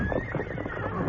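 Several horses whinny in a radio drama, a loud, close, wavering neigh carried over a dense bed of clattering background noise.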